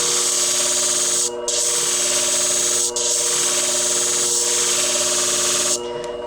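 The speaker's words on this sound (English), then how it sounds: "This is extreme sharpening." A damaged hair beauty scissors blade ground on a sharpening machine, a bright continuous hissing grind with a steady motor hum beneath, briefly broken by short pauses as the blade lifts away, no talking.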